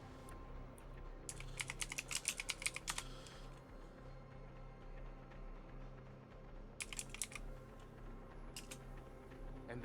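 Someone types on a computer keyboard in two separate bursts of quick, rapid clicking, fairly close and moderately loud, with quiet room tone in between.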